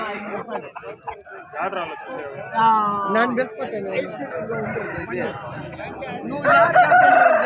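Fighting roosters crow at a busy rooster market in Punganur, loud drawn-out crows rising repeatedly over constant haggling voices and crowd chatter.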